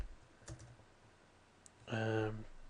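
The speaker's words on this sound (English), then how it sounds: "let's just type in something like Alberta" A computer keyboard being typed on, a quick burst of clicky keystrokes near the end after a brief isolated tap, close and clear.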